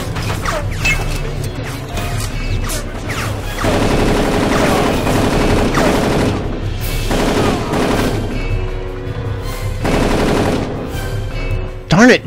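Tommy gun and other machine guns firing in the shooter game Darkest of Days, dense rapid bursts of automatic fire over a battle din, with brief pauses between volleys and a sharp crack near the end.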